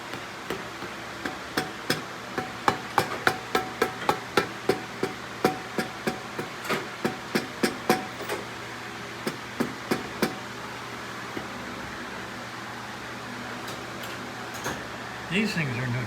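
Irregular metallic rattles and ticks from a 1978 Triumph motorcycle in a workshop, a run of sharp knocks clustered early that thin out over an idling background hum, with a voice briefly heard near the end.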